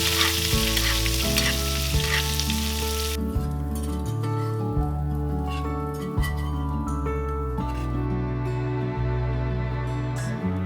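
Butter, fresh thyme, lemon juice and garlic sizzling in a pan over medium-low heat beside blackened salmon, a loud continuous crackling hiss with brief clinks and stirring throughout.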